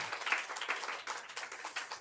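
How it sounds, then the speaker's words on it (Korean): A church congregation at a Sunday worship service claps together, producing a dense, fairly faint patter of applause that continues steadily for a couple of seconds. "박수 한번 해주세요"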